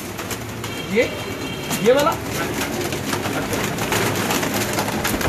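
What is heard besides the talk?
pigeons cooing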